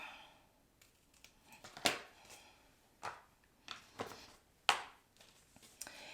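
Scissors snip through paper and cardstock around an oval shape for a chick craft, with quiet, scattered crisp cuts and a few sharper snaps.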